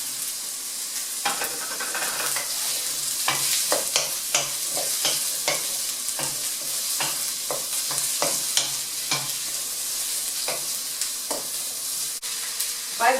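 One onion sizzles loudly in a hot pan for chicken curry, a constant frying hiss broken by repeated scraping strokes as it is stirred around.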